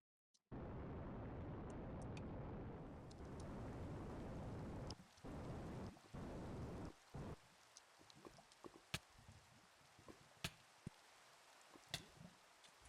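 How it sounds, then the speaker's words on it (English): Video game acid rain on Venus pours steadily, then thins into scattered drips and sharp taps as the downpour cuts off abruptly. "Oh, I think this is acid rain too."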